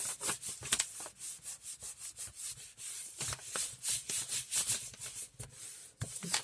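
Glued-on fabric scrap being burnished by hand, with quick, steady rubbing strokes up close, a continuous scratchy swishing with no talk.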